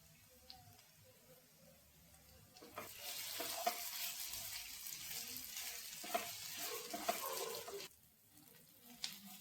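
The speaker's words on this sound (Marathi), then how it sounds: "कांद्याबरोबर छान मिरची परतून घ्यायची, लसूण मिरची." Onion and garlic-chili paste for a tomato chutney fry in a pan with a faint sizzle that swells into a steadier hiss, broken by scattered stirring clicks.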